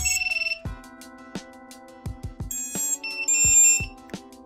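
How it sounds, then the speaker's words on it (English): Freshly built FPV drone powering up after wiring: a series of electronic beeps and chirping tones, sharp bursts and short rising tones over a steady electronic hum, close and fairly loud with no talking. "so now there's a buzzer in there"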